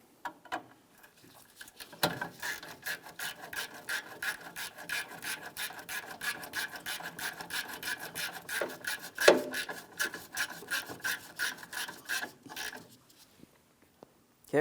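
Rapid ratcheting clicks from a wrench snugging a horn mounting bolt on a 2007-2014 GMC Sierra 2500 HD, a close, busy run of small metallic ticks with brief pauses and a louder clunk midway.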